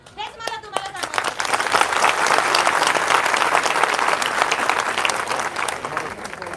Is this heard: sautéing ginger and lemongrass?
no